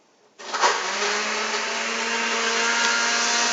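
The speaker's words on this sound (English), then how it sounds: "So, alright, the blender's gonna go," A kitchen blender starts up after a brief quiet moment and then runs steadily at a loud, constant whir, with no talking over it.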